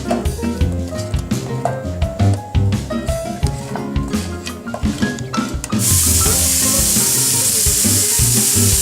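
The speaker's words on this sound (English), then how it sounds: "it's already starting to sizzle" Loud, steady sizzling from frozen filling in a hot pan takes over partway through, a continuous crackling hiss following a busy mix of clattering tones.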